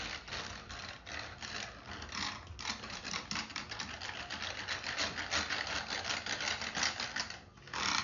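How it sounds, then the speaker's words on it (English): Rapid, continuous scraping and clattering of a whisk mixing a beef jerky marinade in a plastic container with ridges on the bottom, steady and loud for the whole stretch. "So I'm just going to whisk this up."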